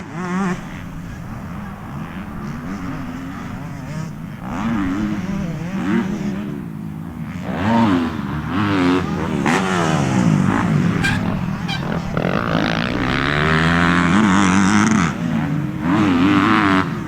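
Motocross bikes race at Winchester Speedpark, including the number 111 KTM, their engines making a loud, continuous buzzing whine that rises and falls as riders rev and shift. Several machines overlap close by.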